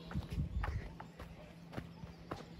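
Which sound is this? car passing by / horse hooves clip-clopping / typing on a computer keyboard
horse hooves clip-clopping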